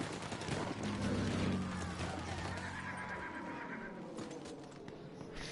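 A horse in a video game lets out a loud, drawn-out whinny near the start that fades away, followed by quieter hoof and battle noise with scattered gunfire.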